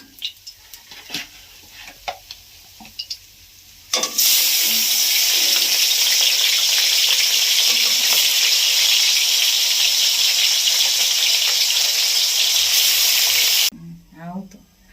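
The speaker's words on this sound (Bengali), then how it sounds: "বাকি মাছগুলো ভেজে নেব।" Brief clatter and a voice, then a sudden burst of loud, continuous sizzling as small rohu fish hit hot oil, holding steady before cutting off.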